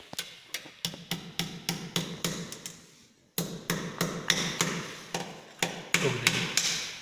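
A hammer taps a clip into place on casing capping electrical wiring, a string of sharp, ringing knocks in a fairly even rhythm, then a brief pause before more blows, close and clear with no talking.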